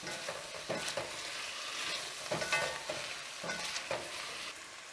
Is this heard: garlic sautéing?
yes